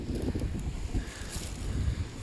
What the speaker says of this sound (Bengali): বাট অনেক বাতাস ভালোও লাগতেছে